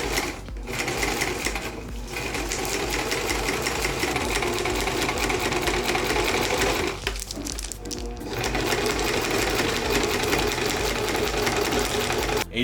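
Sewing machine stitching Reflectix insulation window panels for a camper van, a steady loud mechanical whir running nearly continuously with a few brief pauses, no one talking.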